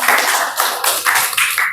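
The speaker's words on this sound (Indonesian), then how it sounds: "Boleh kasih tepuk tangan dulu untuk si single factor kita." A small audience clapping hands together during a talk about recognizing potential, a brief dense burst of claps close and loud, with no speech over it.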